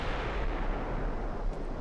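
A heavy naval gun salvo booms in the warship game Ultimate Admiral: Dreadnoughts, a loud, dense rumbling roar of artillery fire that stays powerful across the whole short stretch without any voices.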